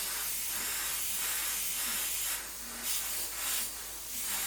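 Aerosol spray paint hisses in steady short bursts over 1/72 scale model iron bombs for an Airfix Phantom FG1 kit, a soft continuous spray with brief pulses, close up and quiet, no speech.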